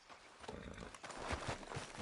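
Horse hooves clip-clop in the Red Dead Redemption 2 video game, a steady rhythmic run of thuds that grows louder and denser toward the end over a continuous wash of ambient noise.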